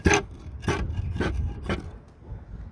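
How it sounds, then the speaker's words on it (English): Soft end of a hammer tapping a roof tile during a repair, four distinct knocks spaced roughly half a second apart, close and fairly loud, with no speech. "just give the tile a gentle tap"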